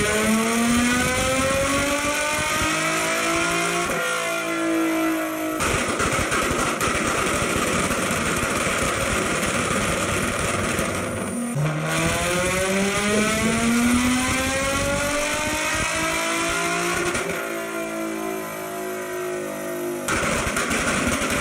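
A Nissan 350Z engine revs repeatedly, loud and close, in long rising sweeps that climb, drop back and climb again, like a run through the gears, with no voices.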